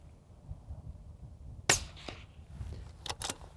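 One suppressed 5.56 rifle shot through a CAT WB Ti suppressor lands as a soft, sharp crack with a short trailing echo outdoors, followed by a few faint clicks.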